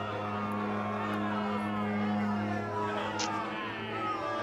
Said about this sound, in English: Why is the crowd pissy?